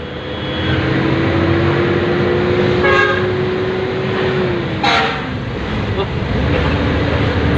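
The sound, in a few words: road traffic with car horns honking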